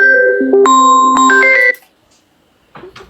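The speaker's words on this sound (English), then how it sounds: "I just got a phone call." A melodic phone ringtone for an incoming call plays loudly and close, a bright sequence of stepped electronic tones that stops abruptly, followed by silence and then a brief voice.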